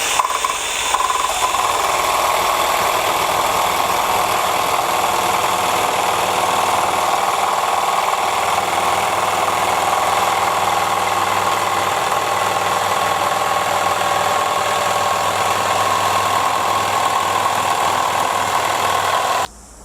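Milwaukee M12 Fuel cordless jigsaw cutting aluminium at speed setting 2, a steady, loud close-up mechanical whine and buzz running continuously for about twenty seconds before stopping abruptly, with no talking.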